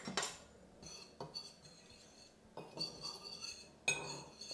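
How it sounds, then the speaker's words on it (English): Flour seasoned with salt and black pepper being mixed in a dish for chicken goujons, faint clinks and scrapes of cutlery against the dish coming in several short bursts. "And then a good sprinkling of black pepper. And then just give it a mix."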